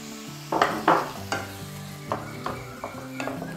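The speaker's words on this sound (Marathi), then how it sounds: "मीडियम गॅसवर. मी हे परतून घेते." Onion fries in a pan over medium heat and is stirred, with a soft sizzle running throughout and several close, distinct scraping strokes from the spoon, the strongest near the start.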